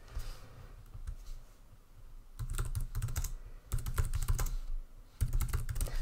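Computer keyboard typing in bursts of rapid clicking keystrokes, close and fairly loud, with short pauses between flurries while an entry is added in Microsoft Lists.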